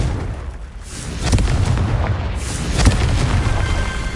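Confringo spell explosion in the video game Hogwarts Legacy: a deep booming blast swells after a quiet start, followed by a second rumbling burst, with a few sharp crackling pops.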